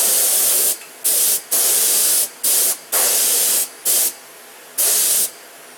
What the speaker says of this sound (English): I turn the compressor off so we can